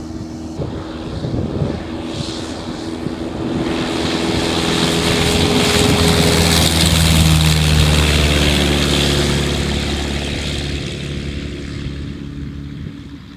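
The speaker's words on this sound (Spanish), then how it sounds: "Y despega Fabio" A propeller aerobatic airplane takes off at a Spanish aerobatic flying championship, its engine drone swelling to a loud, steady roar that peaks midway and then slowly fades with distance, with no talk over it.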